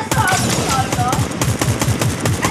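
Rapid automatic gunfire from a Fortnite Zero Build squad match rattles in loud, close bursts of sharp shots, with a voice partly mixed in underneath.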